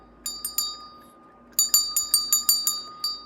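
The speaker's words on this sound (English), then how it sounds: "This bell I got from a friend to help with Vacation Bible School one year." A small metal hand bell rings in bright repeated clangs: three quick strokes, a short pause, then a faster run of about eight rings, each ending in a clear sustained ringing tone, close and alone.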